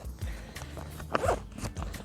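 A backpack pocket zipper on a Teton Sports Explorer 4000 pack is drawn in a few short, close ripping strokes, with faint handling and rustling around it.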